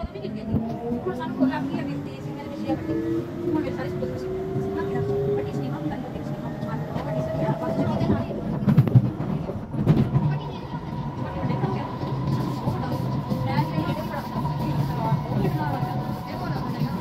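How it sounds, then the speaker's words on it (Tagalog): A train pulls into a station in Singapore, a rising hum with screeching wheel tones sweeping upward and a loud rumble around the halfway point, then a steady drone as it slows, with people talking nearby. "Ayan na mga loves, paparating na yung train."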